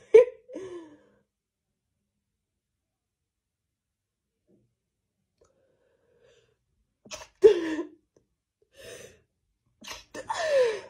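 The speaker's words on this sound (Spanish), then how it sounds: "me ha entrado ganas de estornudar." A person sneezes during a Covid-19 nasal swab test, with a sharp near sneeze burst at the start, a long quiet gap, then a gasping breath and another sneeze-like outburst with short vocal sounds near the end.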